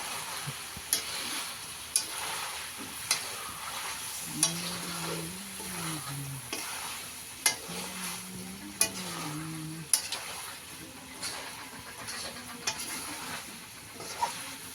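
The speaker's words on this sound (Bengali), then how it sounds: "এখন আলু পেঁয়াজ কাঁচামরিচ ডালা হয়েছে আর লাড়ালাড়ি শুরু হইব" Potatoes, onions and green chilies are stirred in a pan while a home chicken curry is cooked, with a steady soft sizzle and regular spoon scrapes roughly every second, close by. A faint low hum rises briefly in the middle.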